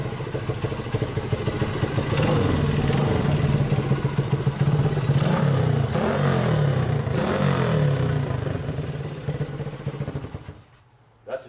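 A 1982 Honda XR80 dirt bike revs close by with its exhaust blatting and rising in steady bursts over a clattery idle, the engine winding down and cutting off near the end.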